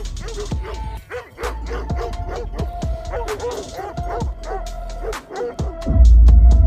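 A Great Pyrenees dog barks and yips repeatedly in short, loud bursts close by, with whimpering notes between barks and a heavy low rumble at the end.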